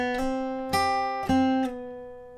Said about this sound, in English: The final thing I'm going to teach you is that little lead riff that's played after the choruses, which is really easy.